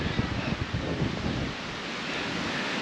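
On a warm, breezy day, wind buffets the microphone during an outdoor run, a loud rushing roar with gusty low rumbles that ease off after the first half.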